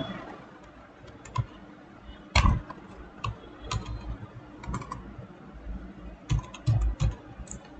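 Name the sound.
typing a folder name on a computer keyboard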